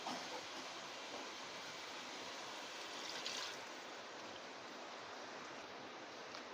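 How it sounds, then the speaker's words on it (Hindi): Water poured steadily into a pot of chicken nihari for about three glasses' worth, a continuous broadband splashing rush that stays even and fairly loud throughout with no talk. "अब मैं इसमें डालूँगी पानी।"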